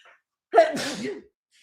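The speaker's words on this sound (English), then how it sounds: "I'm about to sneeze, y'all." A single sharp sneeze, close and fairly loud, with a short breathy intake leading into it and silence around it.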